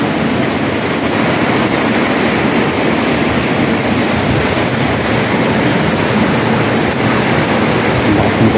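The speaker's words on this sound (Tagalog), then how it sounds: "Ang lakas ng tubig." Strong river floodwater rushing during Typhoon Goring along River Drive between Bacoor and Las Piñas, a loud, steady, broadband roar of churning water that continues without a break, with no talk over it.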